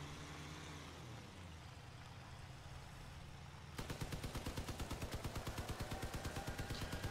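In the video game Crossout, muffled rumbling and a distant blast give way to rapid, sustained automatic gunfire that keeps a steady fast rhythm, loud and close.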